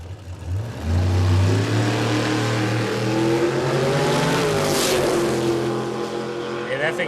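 A Camaro drag car with a 632 cubic inch big block launches at a drag strip, its engine roaring loud and close as it revs up, with the note sweeping upward and then fading slightly as it pulls away; voices speak faintly underneath.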